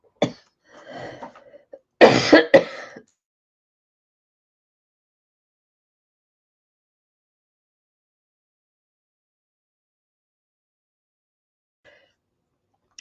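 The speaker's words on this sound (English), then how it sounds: "y'all don't want to hear me coughing" A woman lets out a few close coughs in the first three seconds, then there is near silence for the rest of the clip.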